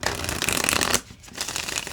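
A deck of tarot cards is shuffled up close, a dense papery riffle that breaks off for a moment and then resumes, with no voices.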